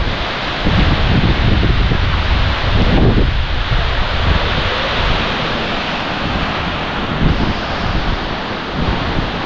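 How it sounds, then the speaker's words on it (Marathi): Strong, steady wind roars beside a waterfall at Savatsada in Chiplun, a continuous broadband rush with a few gusts swelling and easing, close and loud, no voices. "वारा भरपूर लागतोय."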